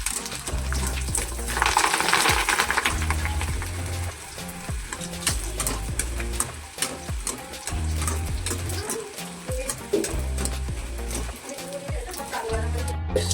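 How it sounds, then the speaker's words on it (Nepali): Bhaji frying in hot oil for an Indian thali: a steady, loud, dense sizzle and crackle runs continuously, with some clinks and faint background voices. "अब भजी फ्राई हुँदैछ है।"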